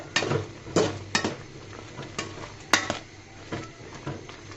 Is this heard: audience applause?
no